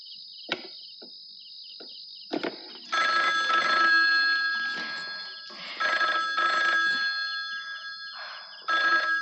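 A telephone rings in repeated electronic bursts, the trilling tone starting and stopping in a broken rhythm, loud and close in an otherwise quiet room, with no speech.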